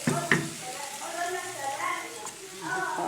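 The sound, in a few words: onion, garlic and okra frying in a pan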